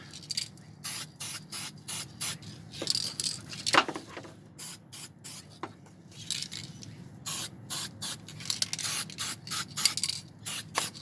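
Short bursts of enamel spray paint on a turbo hatch repair, hissing in a steady series of separate puffs at close range, with a faint scrape partway through and no voices.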